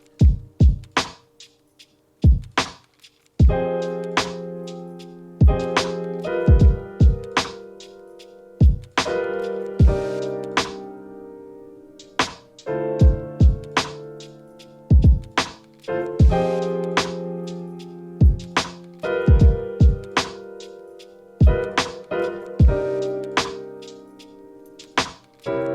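Keyboard chords played in a choppy, syncopated pattern that lands off the beat, with short stabbed hits and held chord tones recurring in steady bars, clear and alone.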